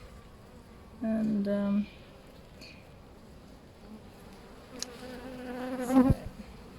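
Honeybees buzz during a hive inspection as they grow agitated, with short loud buzzing bursts close by, one near the start and another toward the end, under quiet talk.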